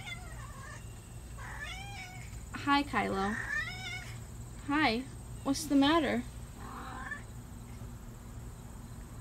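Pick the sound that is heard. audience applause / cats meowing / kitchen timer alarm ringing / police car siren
cats meowing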